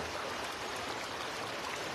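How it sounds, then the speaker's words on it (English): A river flows steadily with a broad, even rush of water, continuous and close, with no voices over it. "Wishing you well from the river"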